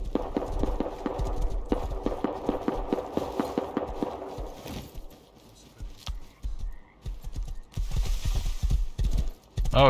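Horse hooves clip-clopping in a video game, a quick regular run of close, loud hoofbeats that pauses midway and then resumes.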